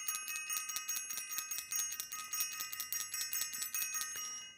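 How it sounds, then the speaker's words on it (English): A small bell rings in a rapid, steady series of bright metallic strikes for several seconds, loud and clear with no talking, as a celebratory shout-out during an astrology livestream. "I want to ring the bell"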